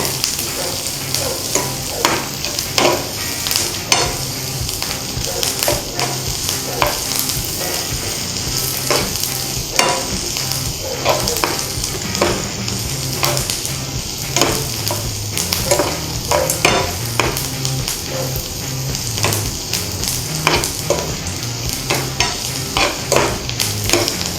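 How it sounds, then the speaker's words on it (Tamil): Sliced onions sauté in a hot pan for a semiya khichdi, a steady sizzle and crackle broken by frequent scraping and clacking as a spoon stirs them around, close and continuous with no talk. "இந்த வெங்காயம் நல்லா வதங்கணும்"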